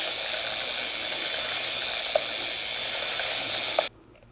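A bicycle chain is backpedaled through a chain cleaning tool, giving a continuous loud hissing, whirring rush with a couple of faint ticks before it cuts off abruptly near the end.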